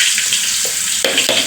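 Spices temper in hot oil for a mixed vegetable gravy, a loud close sizzle with bursts of sputtering hiss as spices drop in, with no voices.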